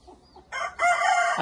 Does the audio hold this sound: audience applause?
no